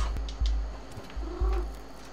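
An in-game cat from the video game Stray makes soft, brief chirps and meows over a low rumbling purr, with several short calls spaced irregularly and no talking.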